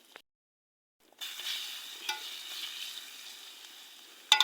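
Fish frying in a pan over a wood fire outdoors, a steady close sizzle that starts after a second of silence and runs on with small stirring scrapes, ending in a brief sharp clatter.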